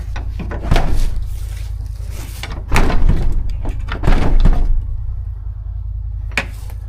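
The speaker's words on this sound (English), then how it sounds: "now I'm just closing these doors so they're completely shut, so no wind comes in" Barn doors are pulled shut on a farm during cold weather as livestock are readied for winter. Several heavy thuds and scraping slides sound close by over a constant low rumble, with a quieter knock near the end.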